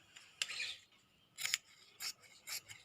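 Sharp scissors snip through a 15-inch piece of lining fabric for a Rajputi lehenga: several quick, close, quiet cutting bursts with short pauses between them, and no talking.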